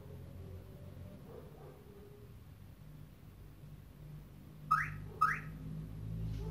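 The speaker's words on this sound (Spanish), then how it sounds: "vamos a escuchar dos bips" Two short electronic chirps from a Chevrolet car alarm being programmed, close together, over a steady low engine-like hum.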